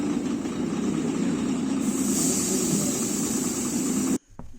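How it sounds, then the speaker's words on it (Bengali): A bus engine roars loudly for about four seconds on a rainy hill road, then cuts off abruptly into near silence as the bus grinds to a halt. "হঠাৎ কোনো আগাম সতর্কতা ছাড়াই বাস বিকট আওয়াজ করে থেমে গেল।"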